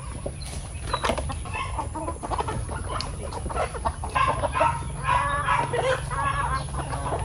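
Chickens and a rooster cluck at a farm in repeated short calls against a low background rumble, with an occasional faint voice.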